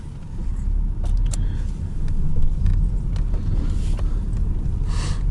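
A car moves off on a cold day after a White Sea trip, with a loud, steady engine rumble and road noise filling the cabin and a few faint knocks and rattles over the drone.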